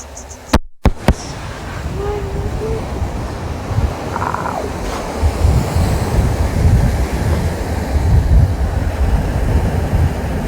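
Sea waves wash steadily onto Kappil Beach in Varkala, Kerala, under a constant roar of wind buffeting the microphone, with a couple of sharp knocks near the start.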